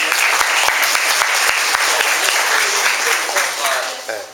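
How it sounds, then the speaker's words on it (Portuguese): A crowd at a church gathering with a bishop claps together in short, brisk applause, the individual hand claps sharp and close, with a voice faintly audible over it. "merece uma salva de palmas"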